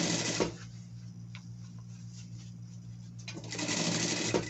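A sewing machine stitches fabric for a costume cap. It runs in a steady mechanical whir at the start, pauses briefly, then starts running again near the end.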